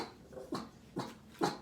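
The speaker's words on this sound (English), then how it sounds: "Sorry about the barking, my friends." Three short dog barks or yelps, evenly spaced about half a second apart, moderately close with a quiet background between them.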